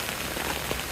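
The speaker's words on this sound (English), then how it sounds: "rain has started." Rain patters steadily and densely on a tent, a close, even hiss of drops with no voices.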